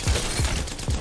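Havoc rifle from Apex Legends fires at training dummies in a short close burst of rapid shots, three heavy thumps within about a second, with no talking.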